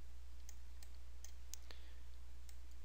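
Quiet computer mouse clicks from someone working in SolidWorks CAD software: sharp, faint, evenly spaced ticks over a steady low electrical hum, with no talking.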